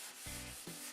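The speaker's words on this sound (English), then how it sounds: "This is more of a finish sanding" Sandpaper rubs in two short strokes across a painted wood surface coated in white, a light finish sanding to smooth the paint, close and fairly soft.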